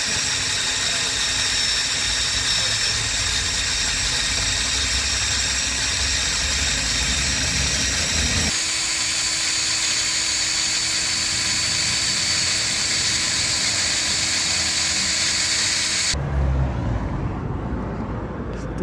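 Drill with a 4-fluted end mill boring into a broken bolt extractor stuck in a Peugeot 207 wheel nut, a loud continuous whine that changes pitch partway through, then cuts off near the end.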